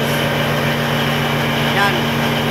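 A crane's diesel engine powering the winches drones steadily at close range, a constant low hum with a loud even mechanical rumble, while someone talks over it.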